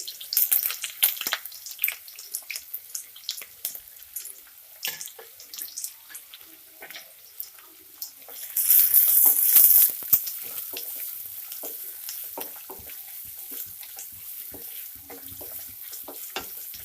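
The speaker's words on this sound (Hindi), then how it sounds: "प्याज को हमें हाई फ्लेम में 2 से 3 मिनट अच्छे से फ्राई करना है।" Onions hit hot oil over a high flame and crackle in sharp, scattered pops. A brief louder hiss like running water surges midway, then the frying settles into a steady spatter.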